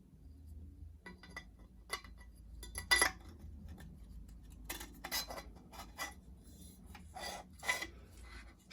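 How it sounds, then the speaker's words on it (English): Airsoft hop-up unit slid into the outer barrel of a VSR-10 sniper rifle, giving scattered metallic scrapes, clicks and small taps at close range, alone with no talking. "now you can insert your hop-up unit inside of your outer barrel"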